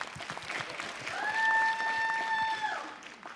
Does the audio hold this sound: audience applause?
yes